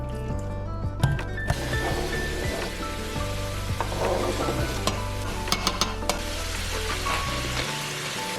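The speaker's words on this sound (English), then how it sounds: "So while these onions finish browning" Onions browning in a pot, a continuous loud sizzle and crackle of frying with occasional stirring clatter close by.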